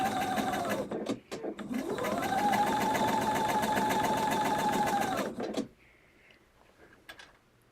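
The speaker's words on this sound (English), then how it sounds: "I'm just running the edge of my presser foot up against the edge of the fabric" A sewing machine stitches fabric with its edge guided along the presser foot, giving a steady close whir that runs about five seconds after a brief stutter at the start, then stops and leaves near silence.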